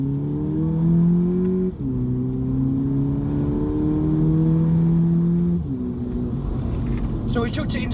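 A VW Polo GTI engine accelerates in sport mode with manual paddle shifts, a loud rising in-cabin drone that steps down at two gear changes and climbs again, with road rumble underneath.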